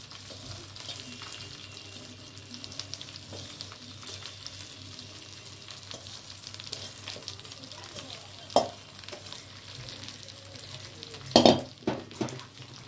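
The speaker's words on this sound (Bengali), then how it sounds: "এবারে চালটা দিয়ে এটা আমি ভাজবো।" Soaked, washed rice frying in ghee in a pan makes a steady, low sizzle. Occasional stirring scrapes and a few sharp utensil clanks near the end punctuate it.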